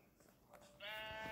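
A sheep bleats in a survival video game: a short, loud, wavering bleat rises near the end after quieter soft sounds.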